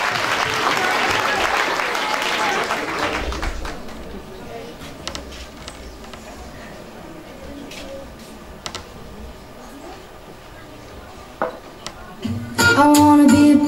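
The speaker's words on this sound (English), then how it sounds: "some noise for Jerry Delaney" Audience applause and cheering at a singing competition final, loud at first and fading over several seconds into quieter background noise, before music begins at the end.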